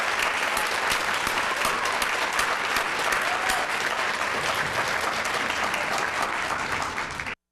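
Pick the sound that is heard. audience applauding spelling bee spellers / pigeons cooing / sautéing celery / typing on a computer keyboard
audience applauding spelling bee spellers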